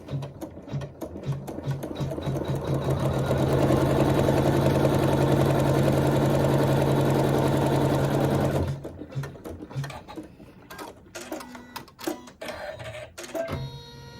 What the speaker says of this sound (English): So we place it right side down and sew our seam.